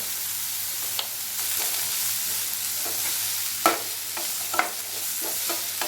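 Onions and garlic sauté in a pan with a steady soft sizzle, punctuated by occasional scrapes and clicks of a spoon stirring, close and moderately quiet with no talking.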